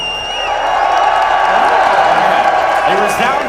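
Esports arena crowd at a CS:GO semi-final cheering for Fnatic, a sustained loud roar of many voices with whoops throughout, steady and dense across the whole stretch.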